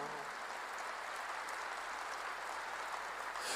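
Congregation in a church applauding together, a dense steady wash of clapping that fills the whole stretch without pause, fairly distant and even in level.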